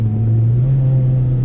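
A Subaru Vivio kei car engine idles through an aftermarket exhaust with a steady low rumble and a throaty exhaust note, continuous and close, with no talking.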